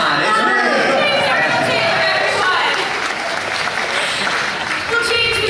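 An outdoor show audience at Star Wars Weekends applauds and murmurs in a steady, dense crowd wash of clapping and chatter throughout, loud and close.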